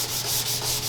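Close, steady sanding of a Sea-Doo SPX 800 jet ski hull: a rough scraping rub that pulses in quick, even strokes, with no voices.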